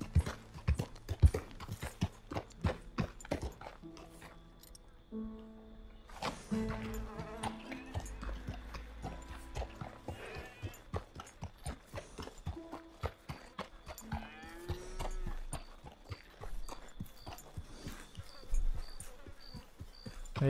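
Horse hooves clip-clopping steadily in Red Dead Redemption 2, a continuous rhythmic trot with mechanical clicks and background ambience and music, quite faint but persistent throughout.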